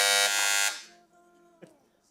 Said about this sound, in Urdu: پھر بزر دونوں نے بجا دی ہے